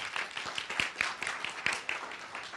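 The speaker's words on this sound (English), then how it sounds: "Let's give her a huge round of applause." An audience at a game development pitch night applauding, a dense stretch of fairly close hand clapping with a few sharper claps standing out, continuing throughout.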